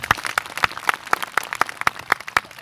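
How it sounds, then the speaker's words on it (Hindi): An audience claps sparsely at a meeting, with distinct, separate hand claps landing in an irregular rhythm rather than a full ovation. "तो ये तीनों कैंची वाले के लिए एक जोरदार तालियां।"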